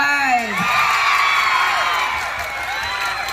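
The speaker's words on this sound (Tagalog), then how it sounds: "Palakpakan na may kasamang hiyawan, please." A loud audience at a stage show cheers and whoops together, with excited shouting voices rising over a dense wall of noise.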